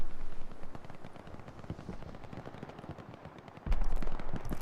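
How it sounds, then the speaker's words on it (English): FG42 rifle fire in the Hell Let Loose battlefield game, rapid bursts of loud gunshots cracking repeatedly, with a heavier close burst near the end. "Filosofo heard those FG42 rounds go off"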